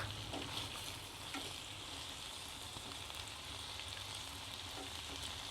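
A fish head sizzles with tomato in a pan, a steady, faint crackling and hiss that holds evenly throughout with no talk over it.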